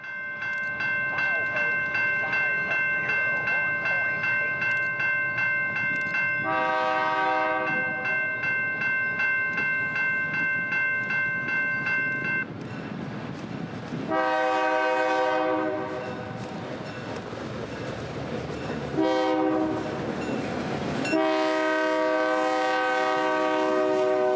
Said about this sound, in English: 137 would be a big train today, with 2 engines up front and 1 in the middle.